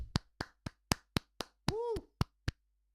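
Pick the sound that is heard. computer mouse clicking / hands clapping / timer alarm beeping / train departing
hands clapping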